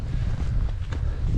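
Steady wind buffets the microphone with a low rumbling roar, continuous and fairly loud, with no voices, on the Laugavegur hiking trail near Landmannalaugar, Iceland.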